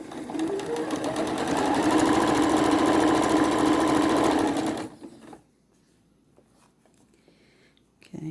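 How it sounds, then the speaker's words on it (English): Sewing machine stitching fabric for a face mask, a loud steady whirring run for about five seconds before it stops abruptly, leaving near silence with a faint click at the end. "Just keep your edge of your fabric even with the mark on your plate on your sewing machine."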